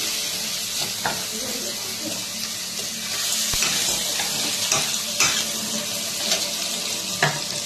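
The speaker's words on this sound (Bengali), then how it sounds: "সিমে করেই আদা রসুনের পেস্টটাকে হালকা হালকা ভাজলাম।" Ginger-garlic paste fries on low heat in a pan, giving a steady close sizzle broken by scraping stirs and light metallic clinks of a spoon against the pan.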